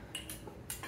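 A metal stirring spoon clinks against a large pot of chili, a few light, quick taps, quiet and close.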